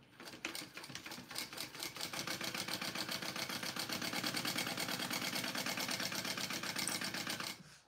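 A sewing machine stitches a garment in a fast, steady mechanical rattle that runs continuously for several seconds at close range, with no talk over it.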